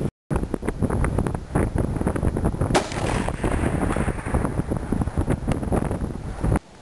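A Winchester 94 lever-action rifle in .30-30 with a peep sight fires one Hornady 160 grain FTX round outdoors at a 300 yard target. The single sharp report is close and loud, surrounded by heavy wind buffeting on the microphone.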